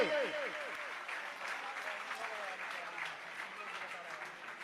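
A crowd at a Jain religious gathering for a kalasha installation ceremony in Mungaoli applauds continuously, with a voice briefly heard at the start over the steady clapping.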